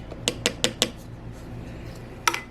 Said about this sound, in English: We're going to mix this really good together, make this all incorporated in.